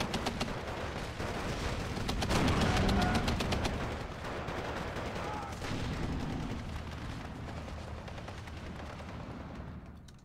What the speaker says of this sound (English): We're getting shelled by that 203 over there.